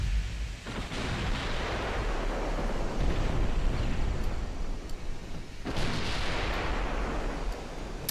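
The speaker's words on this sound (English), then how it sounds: "Oh, torpedo hit, but it did 0 damage." Torpedo strike on a dreadnought-era ship in a naval warfare game, a deep rumbling blast with a second heavy boom near the end, set against a continuous roar of sea and battle noise.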